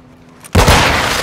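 A flashbang grenade detonates in Call of Duty: Modern Warfare II with a sudden, loud bang after a quiet moment, followed by a sustained harsh roar.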